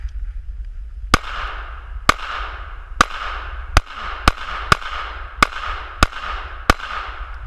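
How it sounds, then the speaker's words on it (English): A Smith & Wesson M&P 9 Shield pistol fires nine sharp shots outdoors at a steady, slightly uneven pace, each crack followed by a short echoing tail. "Let's shoot it some more and see what happens."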